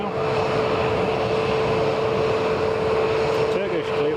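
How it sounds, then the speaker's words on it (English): A United Boeing 757 taxis out for departure at Edinburgh Airport, its engines holding a steady, moderately loud whine and rumble with a sustained tone throughout. People talk over the engine noise. "We've got a United 757 heading for departure. Just taxiing out now."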